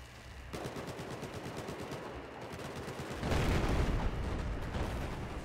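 Battlefield 4 gunfire on the Pearl Market map, a steady stream of rapid machine-gun shots, with heavier rumbling blasts joining in the second half.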